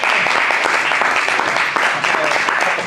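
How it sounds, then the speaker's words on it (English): An audience at a monthly meeting applauds together, a close, dense run of clapping that holds steady for a few seconds without talk. "can we also clap really- for Chris?"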